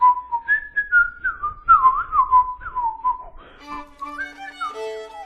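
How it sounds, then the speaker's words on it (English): A person whistles a lilting, wandering tune in clear pure tones, notes sliding up and down, joined near the end by a sustained instrument playing along beneath the melody. "the fish started to whistle such a tune"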